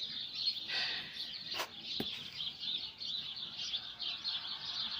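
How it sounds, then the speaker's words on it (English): Birds chirp outdoors in a steady, high, continuous chorus at moderate distance, with a couple of brief sharp clicks or taps near the start. "and not what I'm hearing, because it's just birds"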